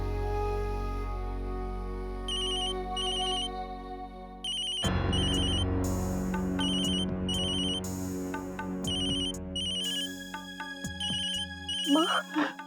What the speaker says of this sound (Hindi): माँ, घर से फोन है।